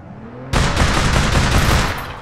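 Shotgun and gunfire in APB Reloaded erupt suddenly after a moment of quiet: a loud, rapid burst of repeated shots that keeps hammering steadily and then tapers slightly at the end.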